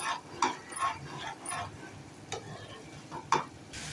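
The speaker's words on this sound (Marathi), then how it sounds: "आपलं हे मिश्रण घट्ट होईपर्यंत आपण ढवळत राहायचं" A spoon stirs vari rice (barnyard millet) upma mixture as it thickens in a pan, giving a few quiet, scattered scrapes and knocks over a faint low background.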